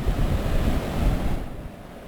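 Ocean waves washing onto a shore at the sea near windmills, a continuous loud rushing surf mixed with strong wind buffeting the microphone, with no voices.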